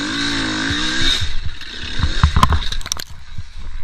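An enduro motorcycle rides on the sand at Loon-Plage beach, its engine rising in a revving pitch sweep before giving way to rough, scraping bursts and clattering impacts that stay fairly close and loud, with no talk over them.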